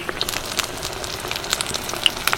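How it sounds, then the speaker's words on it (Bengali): Lote (Bombay duck) fish chops fry in well-heated oil, giving a steady, close crackle and sizzle with scattered sharp pops and no voices. "যে কোনো চপ যখন ভাজবেন তখন কিন্তু তেলটাকে অবশ্যই খুব ভালোভাবে গরম রাখতে হবে"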